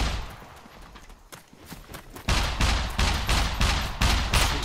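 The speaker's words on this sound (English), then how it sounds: "watch out, it's a sniper" Rapid gunfire from a SCUM video game firefight, beginning as a quieter burst and then becoming loud, dense repeated shots from about the midpoint onward, with no talking.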